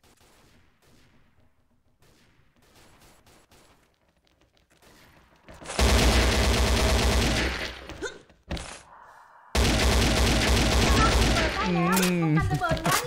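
AK rifle fire in the video game XSHOT, two loud sustained automatic bursts after a quiet stretch of soft game ambience, with a brief gap between them and a short spoken murmur.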